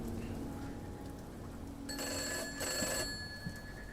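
A telephone rings in the Gray Dawn video game, a bright electronic ring burst starting midway and sounding twice in quick succession over a quiet, low ambient hum.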